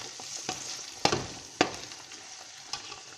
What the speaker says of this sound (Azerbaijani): Badımcanı ət çəkən maşında çəkib, acı suyunu sıxdıqdan sonra qovrulan soğanın üzərinə əlavə eləmək lazımdır.